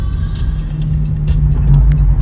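A convertible car pulls away and drives off, its engine a steady close low rumble that builds slightly as it gets under way.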